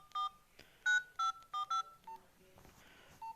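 Telephone keypad tones from a mobile phone as a number is entered: a series of short, clear beeps in an uneven rhythm, close and fairly loud, followed by a few softer tones and faint background noise.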